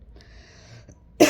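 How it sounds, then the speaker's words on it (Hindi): A single loud, harsh cough bursts out abruptly at the very end, close to the microphone, after a quiet stretch of faint room noise with no talking. "दोस्तों खांसी बहुत बुरी हो रही है"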